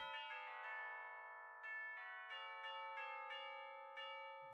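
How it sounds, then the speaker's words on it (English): Bells ring out in a series of clear, resonant strikes, each new chime sounding over the lingering decay of the last, alone with no voices. "The bells are ringing"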